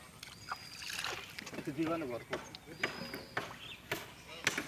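Oars of a rowing boat splash and chop rhythmically in a small river, wooden knocks and sloshes repeating close by, while people talk nearby.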